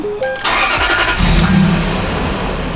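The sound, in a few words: Lexus GX470 engine starting after tune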